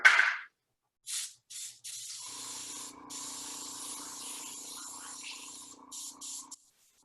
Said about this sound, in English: Let this dry and you could spray over it again.